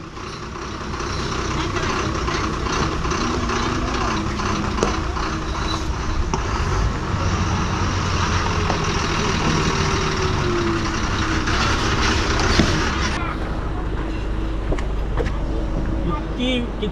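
A mail bus engine rumbles steadily nearby for the whole stretch on its run from Sangameshwar, with people talking over it and the engine note shifting near the end.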